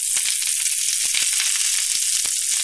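Broccoli and carrots stir-frying in hot oil in a wok, a loud continuous hiss of sizzling with scattered crackles and pops, close and unbroken for a few seconds.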